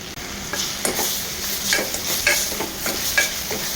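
Sliced onions and chopped tomatoes sauté in a pan for an egg and coconut-milk curry, giving a constant close sizzle broken by regular rhythmic scrapes and taps of a stirring spoon, with no talk.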